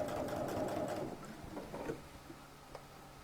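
A sewing machine runs a short burst of stitching along a collar, a steady close whir that slows and stops after about two seconds, leaving quiet handling sounds.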